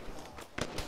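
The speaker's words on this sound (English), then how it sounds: "Shots." In the Arma 3 military shooter, a few distant gunshot cracks pop in quick succession within a brief, noisy moment of gameplay.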